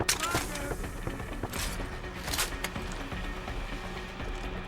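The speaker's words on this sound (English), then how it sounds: "Gunshots!" Rapid gunfire crackles in a Deus Ex Human Revolution firefight during the Sarif under siege chapter, with dense bursts over steady game noise.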